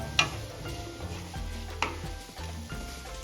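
Mashed potatoes, salt and spices are stirred in a pan with a spatula, giving soft scraping and light clinks against the metal with a faint sizzle, alone without talk.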